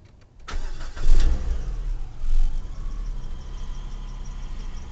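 A 2004 Chrysler PT Cruiser engine cranks briefly and catches after a light, held key press, revs once or twice, then settles into a steady close idle.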